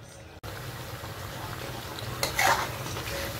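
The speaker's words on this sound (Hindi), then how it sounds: "अब टमाटरों को इसमें फ्राई करना शुरू कर देंगे।" Chicken fries with tomatoes in a pot for Shinwari karahi. A steady sizzle continues while a spoon stirs, and a metal scrape and clink stand out partway through.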